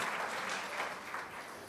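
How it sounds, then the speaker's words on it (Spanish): A church congregation applauds steadily, a dense wash of many hands clapping throughout a short burst, with no talking over it. "este aplauso para nuestros hermanos que nos están viendo ahora"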